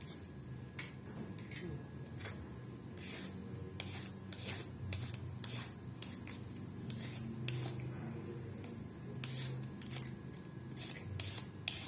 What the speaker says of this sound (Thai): ขูดเพิ่มก่อนเผื่อหลานกินว่าเด็กมันชอบเส้นตำนะ